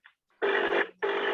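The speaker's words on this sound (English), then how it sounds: "I'm just ringing Rohit to see what happens." A phone ringback tone purrs twice on the line, two long buzzing rings separated by a short gap, with a brief blip before the first.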